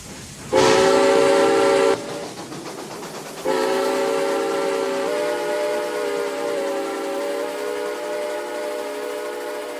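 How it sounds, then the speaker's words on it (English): Whistle of the Atchison Topeka & Santa Fe 3751 steam locomotive departing in a Roblox sandbox game: a loud chordal blast, a pause, then a second long whistle that fades slowly as the train pulls away. "As the train departs completely quick as well, as the train is going to be rolling by."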